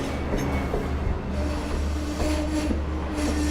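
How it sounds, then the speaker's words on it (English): A Long Island Rail Road train of Kawasaki C3 bi-level passenger coaches rolls past at Westhampton, a steady low rumble of wheels and cars with faint squeals and clanks, continuous and fairly loud throughout. "Cannonball. Kawasaki C3 bi-level passenger coaches."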